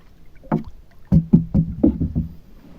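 An inflatable boat is handled on the water during fishing, giving a handful of close, hollow thumps and bumps in an uneven rhythm, with no talking.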